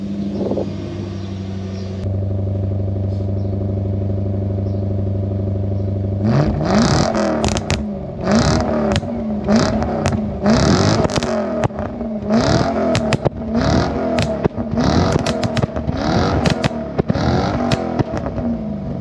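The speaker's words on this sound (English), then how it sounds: "this tune is a full send pops and bangs. And man, does it pop!" A Lexus LS430 engine idles, then revs hard again and again on a cold engine with a pops-and-bangs tune, sharp crackling pops and bangs from the exhaust between the loud, rising roars.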